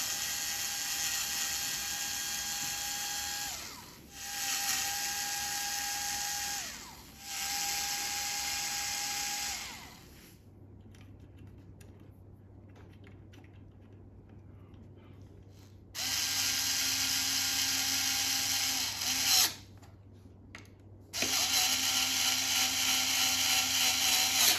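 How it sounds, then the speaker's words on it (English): A power screwdriver backs screws out of the rear guard of a Blade GT+ electric scooter, with whirring bursts of a few seconds each, separated by pauses, close and fairly loud. "Just taking the screws out of the rear guard."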